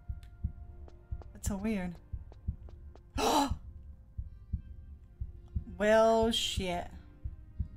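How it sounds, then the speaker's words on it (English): A steady heartbeat thuds in Tomb Raider III, a soft, regular low pulse that keeps going through the whole stretch while a player talks, sighs and exclaims over it. "Why do I hear heartbeat?"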